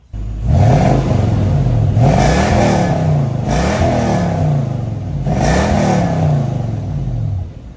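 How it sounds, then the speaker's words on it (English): A 2001 Toyota Sequoia 4x4's V8 engine revs up hard three times, each roar climbing then falling back to a steady idle between bursts, loud and close. "Let's give it some revs."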